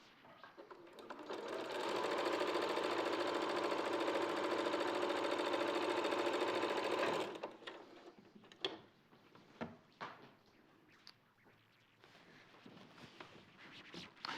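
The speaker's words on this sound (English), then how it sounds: "So you can see that we're wanting to sew across these shoulder pieces" Sewing machine stitching across garment shoulder pieces, running steadily and close for about five seconds, then stopping, followed by scattered handling clicks and taps.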